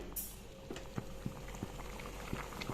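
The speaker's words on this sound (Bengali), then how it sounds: "এইখিনি ভালদৰে মই দহ মিনিট সময় উতলিবলৈ দিম" Chicken curry with potatoes boiling in a pot, a soft steady bubbling with small irregular pops, fairly quiet and close, no talking.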